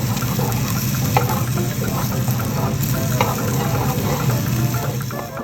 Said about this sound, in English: going to saute the okra for 20 minutes